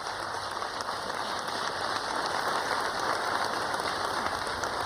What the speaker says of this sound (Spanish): Un aplauso a las trabajadoras